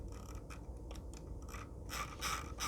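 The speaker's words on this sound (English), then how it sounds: "the mouse wheel is like weighted. It's a very heavy. You can feel that it spins up quite nicely" A Logitech G502 gaming mouse's weighted scroll wheel spinning, producing quick ratcheting clicks in bursts that speed up and grow louder toward the end, close and quiet.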